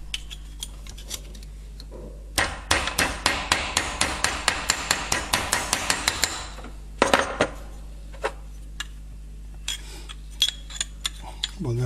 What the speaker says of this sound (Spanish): Hasta punto, un toque de martillo